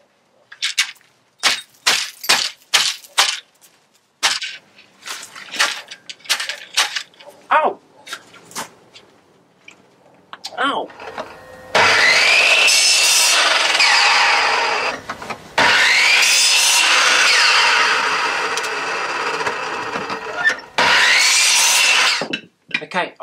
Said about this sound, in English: I'm just going to use my tomahawk to trim off the little side branches